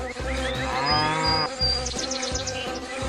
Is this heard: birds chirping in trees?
no